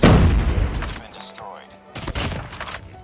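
Rapid gunfire bursts in the mobile shooter game Call of Duty Mobile, loud and close at first, then a brief lull before more shots crackle, with a voice talking over parts of it.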